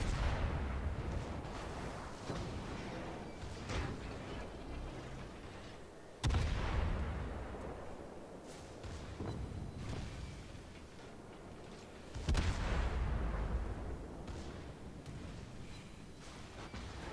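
Naval gun salvos in a warship video game, two heavy booming shots spaced several seconds apart, each with a long rumbling decay over steady low background noise.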